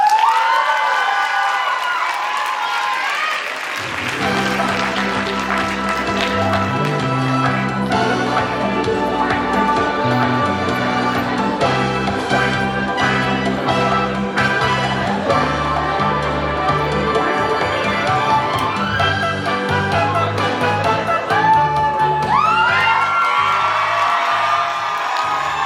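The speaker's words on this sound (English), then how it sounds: "have a big round of applause for this year's 2024 culture show titled A Love Story" Loud audience cheering, whooping and applause at the 2024 Vietnamese Student Association culture show "A Love Story", with a packed crowd roaring continuously over music for the whole stretch.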